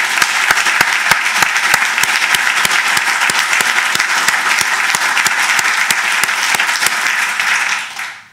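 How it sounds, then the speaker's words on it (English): A lecture audience claps after the inaugural Buttrey Chair lecture by a law professor: loud, close, even applause with crisp distinct claps throughout, fading out abruptly in the final half second. "If we can all give her one more round of applause for lighting up."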